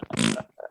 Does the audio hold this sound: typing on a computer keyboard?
no